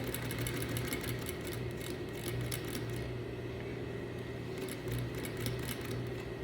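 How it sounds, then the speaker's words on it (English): A sewing machine runs steadily, stitching a straight plain seam in fabric for a French seam, its fast, even mechanical whir continuing close and loud throughout with no talking. "I continue a straight plain seam going all the way down, making sure I keep lining up my fabric"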